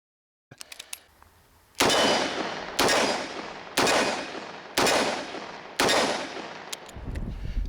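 A concealed-carry revolver firing Remington .38 Special +P rounds outdoors, with five loud, sharp shots spaced about a second apart. Each shot rings briefly into a decaying echo, and a few faint metallic clicks come before and after.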